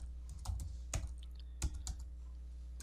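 Someone typing a command into a command prompt on a computer keyboard, a quick run of light, close keystrokes clattering over a steady low hum.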